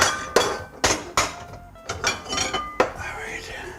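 Dishes and a bowl clinking and knocking in a home kitchen, several sharp clattering hits spaced irregularly, fairly close, with faint movement between them and no talk.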